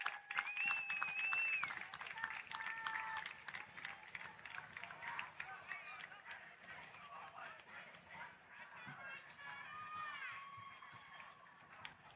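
Crowd applause for youth baseball players at a World Series semifinal, Texas versus Florida, a steady sustained clatter of many hands heard at moderate distance with whistles and cheering mixed in throughout.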